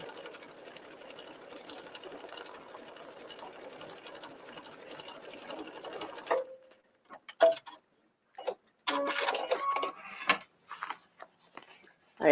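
A sewing machine runs steadily, stitching rows on jeans in a soft, even hum for about six seconds, then stops, followed by quiet handling clicks and brief talk.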